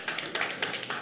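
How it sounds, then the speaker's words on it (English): Audience applause at a corporate customer symposium, a brief burst of scattered hand claps with a dense, crackling texture, moderately loud and without talk. "Please give him another round of applause"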